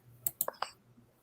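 A handful of crisp clicks sound as things are moved around, with quick close taps in a short cluster and soft voices murmuring near them.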